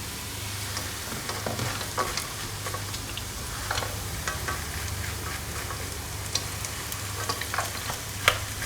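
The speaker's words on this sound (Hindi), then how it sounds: "मैं मिक्स कर देती हूँ।" Walnuts frying in ghee are stirred steadily in a pan, giving a continuous sizzle with scraping and light clicking of the spoon throughout, close and moderately loud, with no voices.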